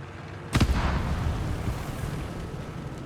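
A mine detonates under an armoured car in Company of Heroes 3, a single sharp, loud blast followed by a rolling rumble and noisy battlefield wash that lingers for several seconds.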